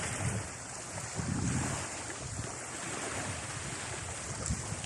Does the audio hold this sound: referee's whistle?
no